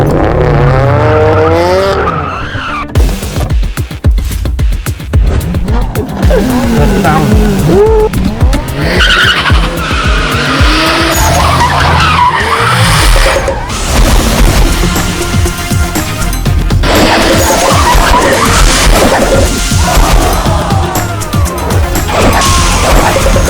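A race car engine revs loudly while tires skid and squeal in a dramatic racing scene. The roar and screech run almost continuously, with sharp crash-like hits and voices heard in between.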